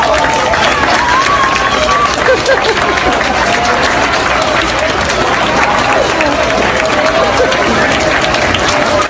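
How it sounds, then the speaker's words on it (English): A large crowd of students cheers and applauds a returning soldier and his brother, with continuous loud clapping and excited shouting filling the space throughout, dense and close. "the soldier and his brother receive cheers and applause from all the students"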